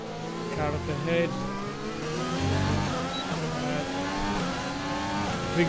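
Racing car engines in the F1 2020 game scream at high revs, a loud sustained whine rising and shifting through gears, with another car nearby and a voice talking over the top.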